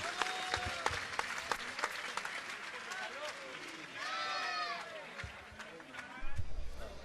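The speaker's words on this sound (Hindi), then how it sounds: "आप लोग तालियों के साथ अनुमोदन कर दीजिए हमारी भावना का" Applause rises from a gathered congregation at a Jain religious question-and-answer session, mixed with voices and crowd noise, moderately loud and uneven with people talking through it.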